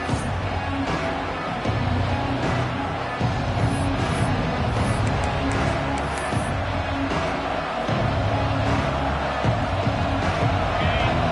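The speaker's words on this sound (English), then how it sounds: "This crowd bringing the energy and noise early." A stadium crowd roars in the College Football 26 game, a dense steady hubbub with swells of cheering, mixed with a talking voice.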